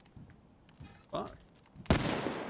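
Gunfire in the survival game DayZ, set on the Namalsk and Chernarus maps: a couple of soft, distant pops, then one sharp, loud shot near the end with a brief lingering tail.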